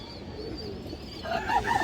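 Large white pigeons with purple-toned feet coo softly, a low murmur that gives way to brighter, louder cooing calls near the end.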